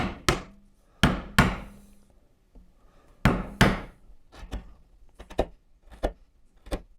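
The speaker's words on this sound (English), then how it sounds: "I'll start with a tenon saw here, then I'll work around with the chisel." A chisel is struck repeatedly to cut out wood for a table saw throat plate, giving a series of sharp, close knocks, some single and some in quick clusters, with quiet gaps between strikes.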